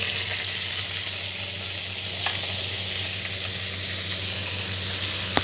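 Manchurian frying in a pan with soy sauce added, a continuous loud close sizzle with faint stirring clicks.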